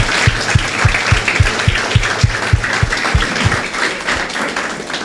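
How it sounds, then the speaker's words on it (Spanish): A church congregation claps in unison, a loud wash of applause with a steady rhythmic beat of roughly ten low thumps, briefly uneven near the end, and no voices over it. "Bríndele un fuerte aplauso a nuestro Dios."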